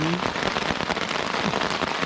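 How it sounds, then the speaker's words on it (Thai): Heavy rain pours down steadily in a forest during a rainy-season trek, a dense, unbroken hiss of drops drumming on leaves and surfaces at close range, with no voices. "ตอนนี้ฝนมัน ไม่ยอมหยุดนะครับผม ตกหนักกว่าเดิมนะผม"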